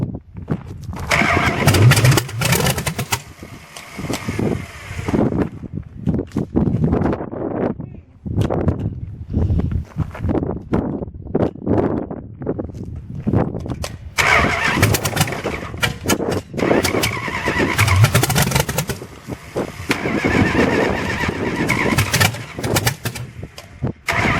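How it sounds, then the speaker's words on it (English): A 1928 Dodge rat rod engine cranking and trying to fire, loud rough churning bursts that come and go over many seconds, close by, with birds cooing in the background and occasional voices. "Hit the ignition."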